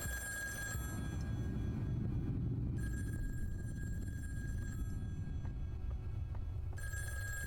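A telephone bell rings in repeated bursts with short pauses, loud and steady over a low rumbling background, with no voices.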